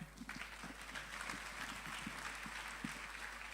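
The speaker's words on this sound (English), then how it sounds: "Keep clapping." A crowd keeps up continuous applause, many overlapping hand claps forming an even, rustling roar that holds steady for a few seconds.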